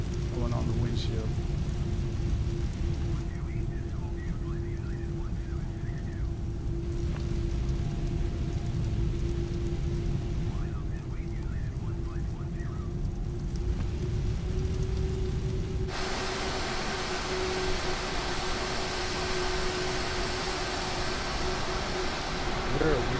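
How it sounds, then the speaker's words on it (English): Steady rain patters on an Airbus A320neo airliner windshield in Microsoft Flight Simulator on Xbox Series S, a dense hiss over a constant low engine and cabin drone that brightens partway through. "There's the rain finally going on the windshield."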